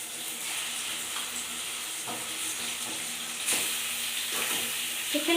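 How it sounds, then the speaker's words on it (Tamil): Chicken sautéing in a pan with curry leaves: a continuous, dense sizzle and frying hiss, broken by periodic scraping and stirring noises, close and steady throughout. "நல்லா கழுவி வதக்கி விட்டுக்கலாங்க."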